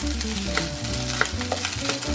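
Rice hits a pan of cooked egg for Chinese fried rice: a dense, close sizzle with scraping spatula stirs and clinks, steady throughout with no talk.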